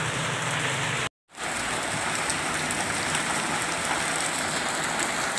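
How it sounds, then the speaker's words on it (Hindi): Heavy Ramadan rain falls steadily, a dense, close hiss of drops on surfaces that continues throughout apart from a momentary cut near the start. "माशाल्लाह जी, रमज़ान की पहली बारिश बड़ी ज़्यादा हो रही है।"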